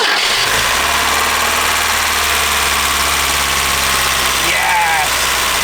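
A 1976 Peugeot 204 barn find engine catches and settles into a loud, steady running drone, close by, with a brief squeal near the end.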